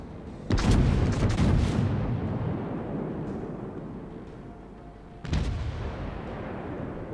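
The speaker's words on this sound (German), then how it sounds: "Und bratzt eine Salve nach der anderen raus." Battleship Arizona firing heavy gun salvos in the World of Warships video game: two loud, deep booms, one near the start and another about five seconds later, each trailing into a long rumbling decay.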